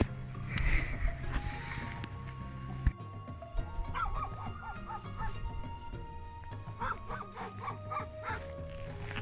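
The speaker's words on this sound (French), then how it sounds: "il y a un chien qui crie" A dog barks, yips and whines in bursts at the far end of an island on Lake Titicaca in Bolivia, fairly close and insistent, with short pauses between outbursts.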